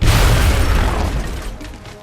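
A grenade explosion in XCOM Long War: one loud, deep blast that starts at full strength and rumbles away over about two seconds.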